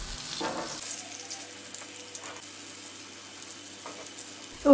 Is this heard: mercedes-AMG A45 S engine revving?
no